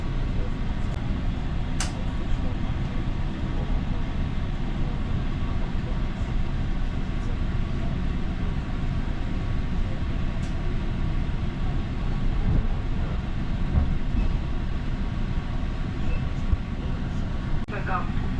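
A commuter train pulls out of Exhibition Station in Toronto bound for Union Station, a steady low rumble of wheels and traction noise filling the cabin, with brief clanks and a narrator's voice over the continuous drone.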